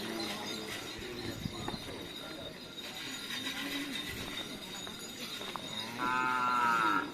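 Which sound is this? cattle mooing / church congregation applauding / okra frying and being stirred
cattle mooing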